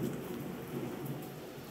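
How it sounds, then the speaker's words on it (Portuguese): Heavy rain pours steadily in a broad, even roar with low thunder rumbling underneath, continuous and fairly loud throughout, with no voices. "esse barulho aí é da chuva, tá? Tá chovendo bastante aqui"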